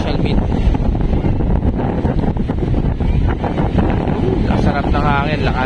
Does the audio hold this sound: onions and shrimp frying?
no